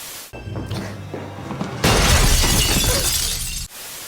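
Glass shatters in a horror film scene from the Scream franchise, a loud, dense crash that bursts in suddenly and rages for nearly two seconds over a quieter, rumbling scene before cutting off.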